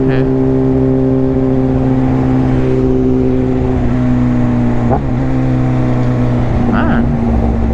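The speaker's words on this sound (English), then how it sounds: "Man, this bike is louder." A motorbike engine runs loud and close on a road with construction barriers, a steady, heavy droning hum with strong tonal layers that holds for the whole stretch and swells slightly near the end.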